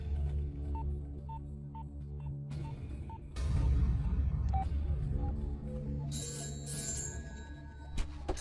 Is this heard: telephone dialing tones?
yes